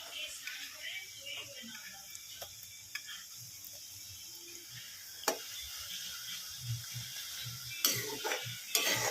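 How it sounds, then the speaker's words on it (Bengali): Kucho nimki, small fried dough snacks, sputter in hot oil in a batch, a steady soft sizzle broken by scattered clinks and scraping taps, with a few sharper knocks near the end. Faint talk can be heard in the background. "এইভাবে করে সমস্ত নিমকিগুলো আমি ভেজে নিচ্ছি"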